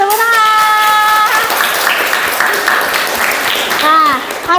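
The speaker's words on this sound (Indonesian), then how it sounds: "Tepuk tangan." Applause breaks out in a classroom: a burst of many hands clapping, fairly loud and close, rising after a teacher's voice and continuing under further talk and high children's voices.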